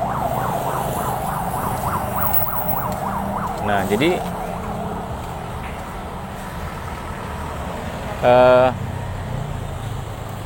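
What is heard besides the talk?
ambulance siren passing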